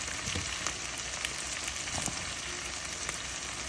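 Tomato pieces sizzling in a pan of stuffed eggplant tomato curry, a continuous close frying crackle with small pops, no voice.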